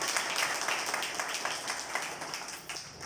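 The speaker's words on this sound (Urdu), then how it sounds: "روح القدس کے لیے زوردار تالیاں" Applause from a congregation at a church meeting, a short burst of brisk, fairly quiet clapping.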